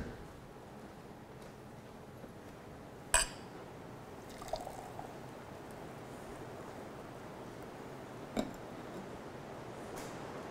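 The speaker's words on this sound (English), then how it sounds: "let's take and let's pour it" Liquid poured steadily into a container, a continuous soft trickle for about ten seconds, with a few sharp clinks against the vessel and no talking.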